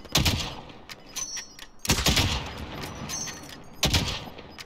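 Bursts of gunfire from a Call of Duty Warzone match, three sharp volleys spaced a couple of seconds apart, loud and close with no voices over them.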